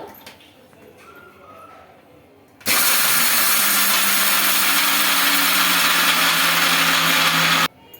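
After a quiet start, a mixer grinder grinding coconut and lentils suddenly whirs at full power, a loud, steady high-speed grinding for about five seconds, then abruptly stops.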